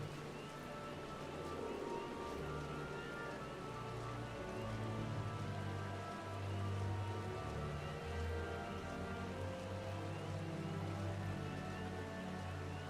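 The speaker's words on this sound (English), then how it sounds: "And if you haven't noticed, it's raining." Rain falls steadily in the world of Final Fantasy XIV, a soft, constant patter and hiss of drops on surfaces, low and even throughout with no voices.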